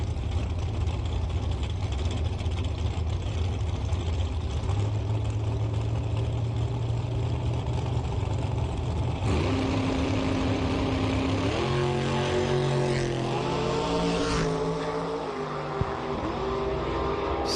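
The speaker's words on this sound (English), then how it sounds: "You heard Mark Bacon pumping the throttle as he's kind of steering his way down the track" A drag racing car's engine runs loud and steady on the track, then shifts into a choppy, wavering roar as the driver pumps the throttle while steering down the strip.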